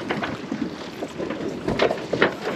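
A small boat pitches in big waves as wind suddenly rises in a gulf, with churning water slaps and gusty wind rumble buffeting the microphone throughout and no voices.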